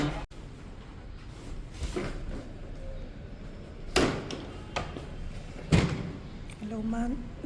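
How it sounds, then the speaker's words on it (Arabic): An old hotel elevator door is opened and closed, giving several sharp metallic thumps and clanks spread over a few seconds while a person talks throughout. "لازم نفتح الباب."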